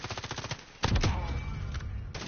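Rapid bursts of automatic gunfire in the video game Call of Duty Warzone, a quick rhythmic volley followed by a louder sustained barrage with overlapping shots and echoing tails.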